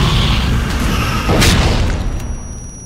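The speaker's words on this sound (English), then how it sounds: "good with those grenades" A grenade explodes in the multiplayer shooter Aliens: Colonial Marines, a loud booming burst with a broad rumble that swells midway and then fades.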